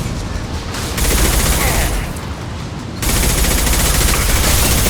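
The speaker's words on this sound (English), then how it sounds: "Firing a high-impact shot." A high-impact weapon firing in the Mass Effect 2 video game, loud dense bursts of rapid gunfire that cut out briefly and then resume at full force, overwhelming everything else.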